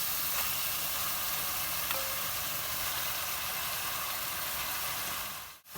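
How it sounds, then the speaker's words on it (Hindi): Chicken frying with cumin and dried coriander makes a loud, even sizzle that fills the whole stretch, then dips briefly at the very end. "अब इसको भूनना स्टार्ट करें और साथ ही इसमें डाल दें चिकन।"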